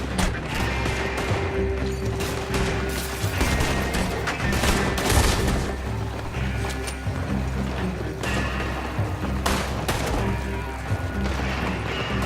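Sustained gunfire from a Red Dead Redemption 2 shootout: dense, overlapping shots and crashes fill the whole stretch at steady loudness over a low game-music bed, with occasional sharper bursts standing out.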